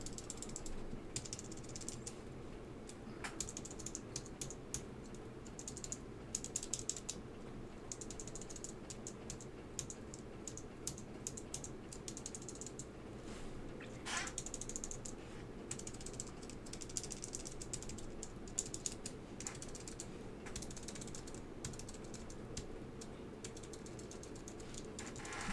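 Steady clacky keystrokes from a Geon Works Frog Mini keyboard fitted with Alps SKCM Ivory switches, a dense ratchet-like run of presses at an even pace, close and moderately loud with no voices.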